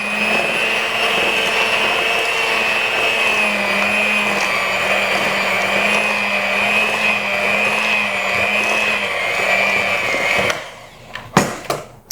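An electric mixer whirs loudly and steadily as it churns snickerdoodle dough, its pitch wavering slightly, then it cuts off into a few sharp clatters near the end.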